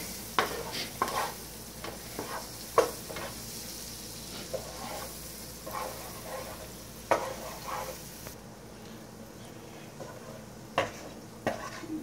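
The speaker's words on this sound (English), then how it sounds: "And then I'm gonna add my garlic and my onion. It's gonna kinda sear this a little bit." Garlic and onion searing in a hot pan, a steady sizzle broken by sharp clinks and scrapes of a utensil stirring; the frying hiss drops off abruptly near the end, leaving scattered taps.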